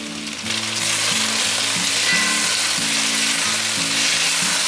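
Eggplant and a large handful of Thai basil stir-frying in a pan with no added water, a steady close sizzle throughout with a low, regular tonal hum running beneath it and no voices.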